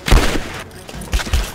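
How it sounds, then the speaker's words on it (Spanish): A burst of gunfire rings out in the video game Rise of the Tomb Raider, a few sharp reports clustered at the start and again near the end, fairly loud with short gaps between them. "Alguien está tirando balazos"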